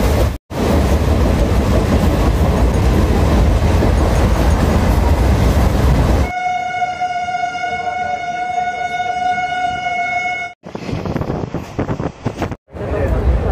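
A loud train rumbles past up close at Dabra railway station in India, followed by a long sustained horn-like tone with harmonics, then clattering rail noise resumes after a brief gap.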